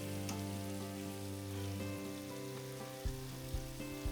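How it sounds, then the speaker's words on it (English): Thin, pre-chipped steak sizzling in a pan for cheesesteaks, a steady close frying hiss running throughout with a few soft clanks of a utensil near the end. "It's already chipped up for us. Let's get some out of there. There we go. So it'll fry up nice."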